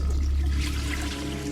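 A toilet flushing, a steady rush of water with a low rumble, close and loud, no voices.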